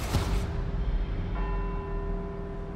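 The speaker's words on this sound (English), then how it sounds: "let's see if we can visit every bell tower in Edinburgh and get back here before they all stop ringing" Church bells in Edinburgh within Forza Horizon 4 ring with sustained, resonant tones that hum steadily, and a fresh strike enters partway through, layered over a dense, loud ambient wash.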